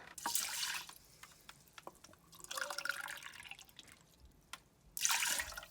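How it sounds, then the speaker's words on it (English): Water poured into a pot of rinsed rice and lentils comes in three bursts of splashing and trickling, interspersed with quiet drips and small clinks. "And now I'm going to add in 10 cups of water."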